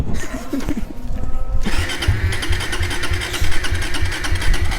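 A Suzuki GSX motorcycle with a weak battery is cranked repeatedly without catching: a short burst, a pause, then a steady rhythmic churning of the starter and engine, close and fairly loud.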